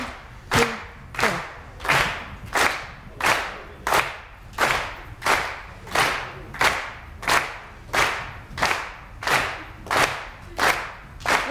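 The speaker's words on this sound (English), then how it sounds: "So we're going to clap on the beat." A group marks the beat with unison claps at an Ilu Axe dance workshop, about sixteen crisp, evenly spaced claps landing roughly every three quarters of a second, close and clear with no talk between them.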